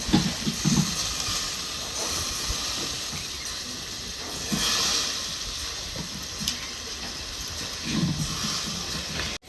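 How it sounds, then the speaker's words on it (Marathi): Bitter gourd steams in a covered pan over a low flame, giving a soft continuous hiss with faint bubbling and lid rattles, quiet and steady throughout. "आत वाप तयार होईल आणि आपलं कारलं आपोआपच आतमध्ये शिजलं जाईल"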